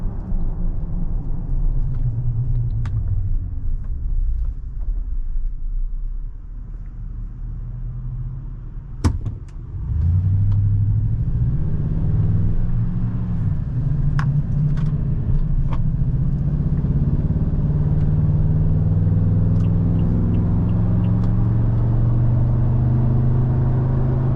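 Heard from inside the cab, a Toyota Tundra TRD Pro drives along with a low, rumbling exhaust note that swells as it accelerates, joined by a steady hum from its mud terrain tires. A brief knock or thud comes partway through, and no one talks.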